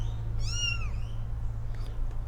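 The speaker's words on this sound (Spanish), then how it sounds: "Como cuarto punto el gato" A cat gives one clear, drawn-out meow over a low steady hum, followed by a brief faint squeak and then quiet background noise.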